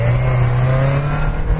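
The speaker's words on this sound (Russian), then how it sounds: "Вот Дастер мне нравится, как раскручивает двигатель" A Duster SUV engine revs hard and steadily during off-road driving in a snowstorm, a loud sustained roar close by with no voices.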